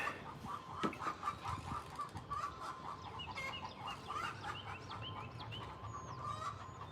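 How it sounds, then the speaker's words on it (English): Chickens on a farm give agitated alarm clucks and squawks, a steady stream of repeated calls at moderate distance over outdoor background noise, with a few sharper cries standing out. "When you hear your chickens do that, they see something."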